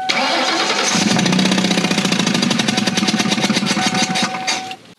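A Ford party van engine, under repair for a blown-out spark plug, cranks with a rapid rhythmic chugging and then turns over into a loud running roar that continues close up until cut off near the end.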